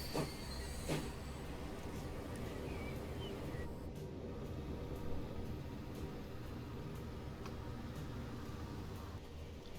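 An express train arrives in the game Transport Fever 2, a low rolling rumble with hissing and occasional clicks of wheels on track, steady and fairly faint, heard from outside.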